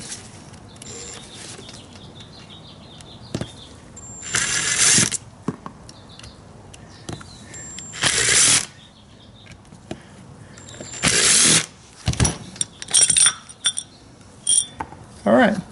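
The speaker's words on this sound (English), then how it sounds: "Just going to start by unscrewing the 3 screws." Screws are worked out of a carburetor from a 2005 Honda CRF230F, with faint light metallic tinkering broken by several loud close bursts of clattering and handling noise.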